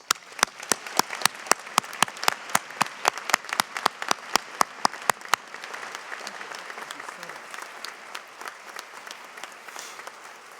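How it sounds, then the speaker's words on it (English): Commencement audience at a 2018 dental school graduation ceremony applauds, starting with loud, sharp, closely spaced claps that thin into a looser, softer patter of scattered clapping over several seconds. "Please join me in another round of applause."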